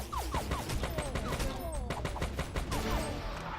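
Rapid bursts of gunfire in the video game Major Mayhem crack repeatedly against a dense, noisy background, with sharp shots in quick succession and a faint voice underneath.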